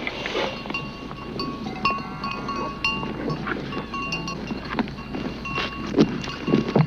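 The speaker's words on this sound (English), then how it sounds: "So many cows, they're coming" Herd of cows on a farm at a rural community, with scattered lowing calls, jingling bells and hoof clatter at moderate distance, irregular and overlapping, no speech.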